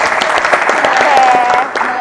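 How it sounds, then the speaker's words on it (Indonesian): A podcast audience applauds in a brief burst of dense clapping at close range, with a voice speaking over it and a faint tone running through the middle. "tepuk tangan dulu nih buat kita semuanya"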